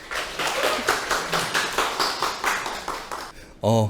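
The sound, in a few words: audience applause welcoming the principal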